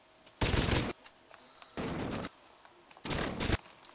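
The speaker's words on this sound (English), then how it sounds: "they're shooting back at us" Gunfire in the Saints Row 2 video game comes in three loud, dense bursts of rapid automatic shots, each about half a second long, separated by quieter gaps with no talk.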